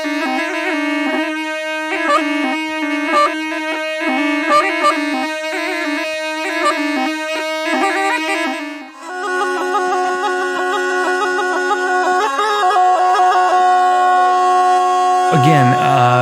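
A tarpa, a reedy, nasal Indian wind instrument, honks a fast, repetitive pulsing melody, then holds longer buzzing notes, loud and close with no talking.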